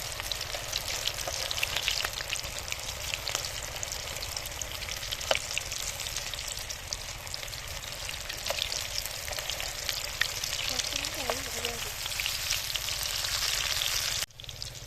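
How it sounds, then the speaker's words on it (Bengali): Chicken satay fries in oil over a medium flame, giving a continuous close sizzle with scattered pops and crackles that holds steady throughout, with no voices. "তো শাটেগুলো বেশ লাল লাল করে সুন্দর করে ভেজে নিতে হবে।"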